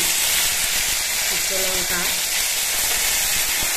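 Ginger-cumin paste added to hot oil with cumin and bay leaf in a pan, a loud steady frying hiss and crackle that fills the clip, with a brief voice partway through.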